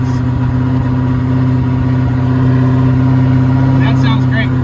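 A freshly started engine runs steadily at about 1,800 RPM, a loud constant hum with a firm low drone and no change in pitch, a voice talking over it.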